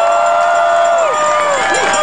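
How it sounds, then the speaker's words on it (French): A large outdoor crowd at a sovereignty march rally in Montreal's Champ de Mars applauds and cheers loudly and continuously, with whistles and shouts over the dense clapping. "Une grande main d'applaudissements,"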